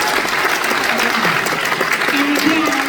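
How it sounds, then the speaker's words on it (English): A theater audience at the Bankhead Theater, during a comedy set, breaks into steady, dense applause that fills the room evenly for several seconds. "So how many clap if you have raised a teenager in your lifetime?"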